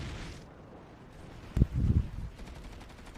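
Video game gunfire during a team skirmish, a sharp near shot followed by a short low rumbling burst of rapid fire and a fading tail, moderately loud.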